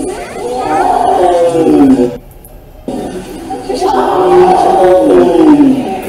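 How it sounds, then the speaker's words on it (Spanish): A tiger roars inside an interactive conservation presentation, with two long, loud rumbling roars separated by a brief quiet gap, each filling the clip at close range. "Obviamente sería importante escuchar al tigre."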